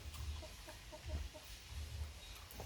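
Young hens cluck softly in short repeated bursts while grazing outdoors on a summer evening, a little distant, over a low rumbling background.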